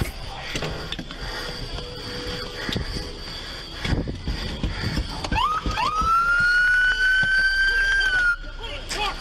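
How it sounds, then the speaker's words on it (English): A police car siren winds up partway through and then holds a steady, loud wail over background noise and brief muffled voices during a police chase. "He gonna turn on the siren like she didn't know"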